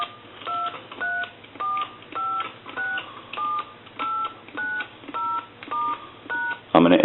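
A brass Majesty telephone sounds a run of about ten evenly spaced two-tone touch-tone dialing beeps, clear and close, ending in a brief burst of noise.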